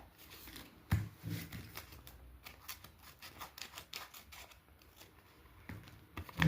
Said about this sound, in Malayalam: ഒരു സൈഡ് മാത്രം മുറിക്കുക. ഇങ്ങനൊരു പീസ് മുറിക്കുക.